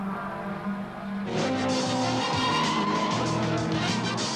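An 1980s British Touring Car Championship car runs off at Stowe into the gravel trap, its engine surging and tyres scrabbling as a loud roar suddenly swells and stays, under crowd-like background noise.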